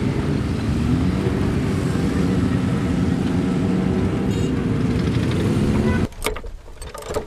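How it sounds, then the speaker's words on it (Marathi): A motorcycle engine runs in a loud, steady drone for about six seconds, then the sound drops abruptly into rougher, broken noise at the end. "मोटरसायकल,"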